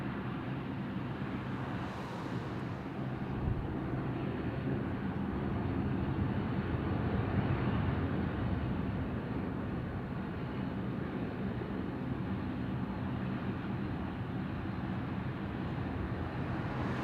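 A Singapore Airlines airliner at an airport gives off a steady, broad jet engine roar that holds even and unbroken at moderate distance, with no voices.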